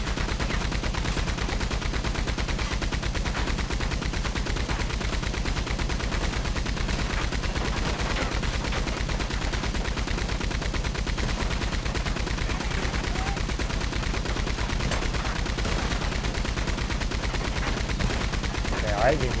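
Rapid gunfire rattles nonstop in Red Dead Online, dense overlapping shots and bursts sustained and loud throughout, with distant chatter faintly underneath.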